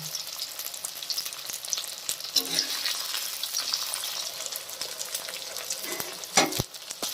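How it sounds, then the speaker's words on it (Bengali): Paneer sizzles steadily in a pan as the pieces are turned over, with soft scraping clicks of a spatula and a sharper clack near the end, no talk. "এবার উল্টিয়ে পাল্টিয়ে পনিরগুলো একটু লাল লাল করে ভেজে নেব।"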